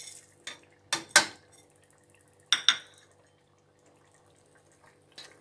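A metal spoon scrapes and clanks against a cooking pot while potatoes, ginger and garam masala are stirred for aloo gosht, a few sharp knocks spaced apart with quiet gaps between.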